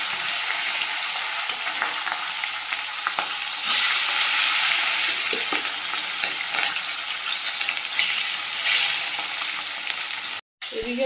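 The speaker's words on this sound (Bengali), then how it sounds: "মাছগুলো ভেজে নেব।" Fish frying in hot oil in a wok, a steady close crackling sizzle with bursts of spattering and occasional stirring clinks, running continuously with no talk.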